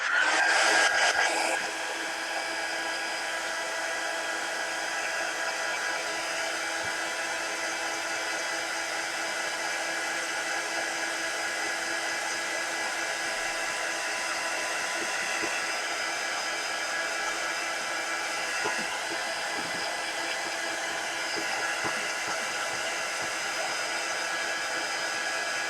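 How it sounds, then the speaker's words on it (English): A heat gun blows steadily on wet teal paint in a close, even whoosh, starting with a louder burst and then holding at a constant level for the whole stretch with no talking. "let me dry that real quick."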